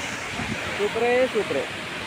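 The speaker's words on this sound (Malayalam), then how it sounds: "ഇവിടെ നിന്നാണ് ഇങ്ങനെ പുഴ ഒഴുകി പോകുന്നത്." Rushing water of the river below Athirappilly waterfall in Kerala, a steady broadband roar filling the whole stretch while a person talks briefly over it.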